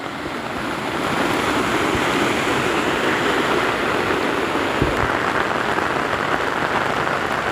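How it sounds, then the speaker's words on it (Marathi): Heavy rain pours down steadily in the Konkan region of India, a dense, loud, unbroken hiss that swells in after a brief quieter start. "पावसाचं प्रमाण लय वाढलं आहे बाबा कोकणात"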